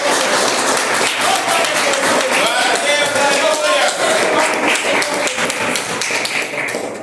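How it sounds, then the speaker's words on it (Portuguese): Church congregation clapping together in praise during a sermon service, loud rhythmic claps sustained for several seconds with voices rising over them before it thins out. "E palmas para Deus."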